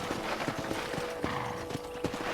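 Horse hooves clip-clop in a quick, even rhythm at moderate volume, with a faint background hum, in the video game Red Dead Redemption 2.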